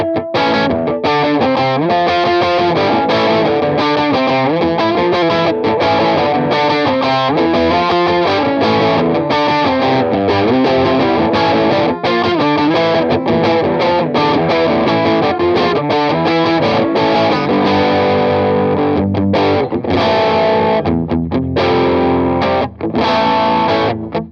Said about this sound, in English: for that kind of like overdriven sound, I think it's great